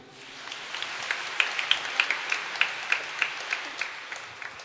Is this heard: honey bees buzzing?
no